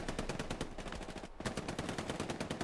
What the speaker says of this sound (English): Mummus here gets himself some machine gun kills below us.